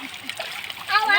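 Children splash about in a village water tank, bright close splashes and splatter mixed with kids' voices chattering and calling over the water.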